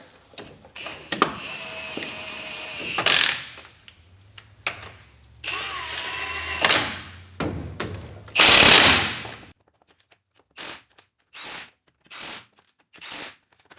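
A ratchet tightens the wheel lug nuts on a Dodge Ram during a front brake job: several loud, buzzing mechanical bursts up close, followed by shorter separate clicks and pulls, with no talking.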